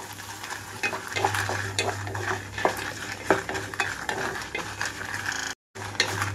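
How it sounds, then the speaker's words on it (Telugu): Peanuts, dried red chillies, coriander seeds and cumin dry-roast in a pan, stirred with a utensil that scrapes and clinks over a soft crackle and a low steady hum, with a brief cut near the end. "ఇవి 2 వేగేటప్పుడే ధనియాలు అలాగే జీలకర్ర కూడా వేస్తున్నాను."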